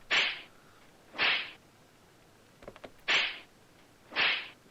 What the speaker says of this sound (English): Apparently face slap happens twice.